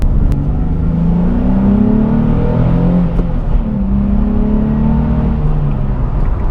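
A Nissan 370Z with its 3.7-litre V6 under full throttle, a loud steady engine drone heard from inside the car, with the pitch climbing through the gears and no talking.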